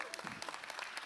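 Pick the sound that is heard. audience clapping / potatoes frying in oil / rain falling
audience clapping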